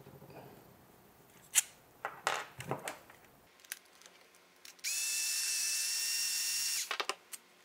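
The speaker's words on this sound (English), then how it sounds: "use my electric screwdriver and just" Electric screwdriver backing out screws during a 3D printer Y-axis assembly, heard as a steady whirring run of about two seconds, preceded by a few clicks and handling noises.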